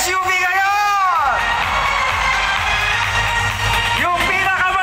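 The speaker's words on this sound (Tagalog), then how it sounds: "Sumigaw ang grupo kung saan nasa kanila ang magwawagi ng SUV ngayon!" A large crowd at an 18th anniversary celebration shouts and cheers loudly in a continuous roar, with rising whoops and yells peaking near the start and again toward the end.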